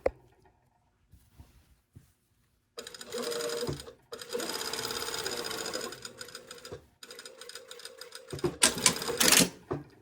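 Sewing machine stitching all the way around a garment pocket, running in several bursts of steady rapid whirring with brief pauses between them, loud and close with no talk over it.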